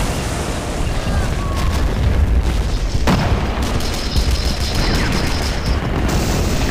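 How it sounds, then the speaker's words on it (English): Battlefield mortar fire and incoming rocket explosions during a big push at Küstrin, a dense, loud barrage of booms with a sharp blast near the middle and continuous rumbling gunfire throughout. "Mortars are opening up"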